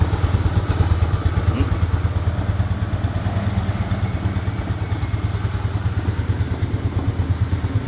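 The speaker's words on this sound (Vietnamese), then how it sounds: "Máy nổ rất là im nha anh em." Attila scooter engine idling quietly at close range, a steady low, even putter with light mechanical clatter and no other sounds.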